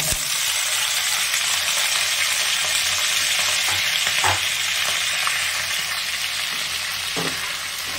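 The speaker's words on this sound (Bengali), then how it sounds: "এবারে দিয়ে দেবো এর ভিতরে কাঁচা টমেটোটা।" Raw tomato frying in hot oil gives a loud, unbroken sizzle up close, with a few soft knocks and scrapes from a utensil stirring through it.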